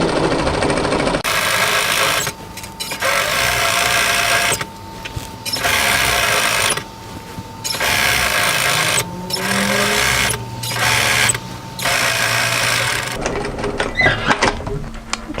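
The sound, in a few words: sewing machine stitching a garment seam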